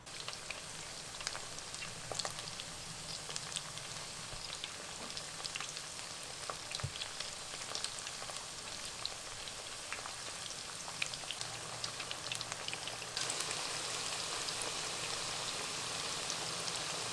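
Eggplants frying in a pan, giving a continuous, fairly quiet sizzle and crackle with scattered pops and no talking.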